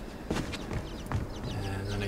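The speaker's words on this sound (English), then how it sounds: "And then I hear the chickens." Chickens cluck in the video game Inside, a few short calls rising over a steady background hum with a low sustained tone near the end, all fairly quiet.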